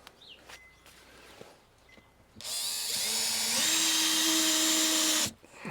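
A power drill drives screws into wooden deck planks on a rooftop terrace. A few quiet knocks come first, then a loud, sustained whirr that rises in pitch for about three seconds and stops abruptly.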